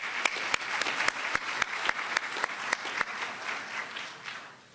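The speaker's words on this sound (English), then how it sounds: "Give yourselves a round of applause as well for being here." Moderately loud audience applause at an awards gala, a few sharp, distinct claps standing out over the steady patter before it thins and fades out.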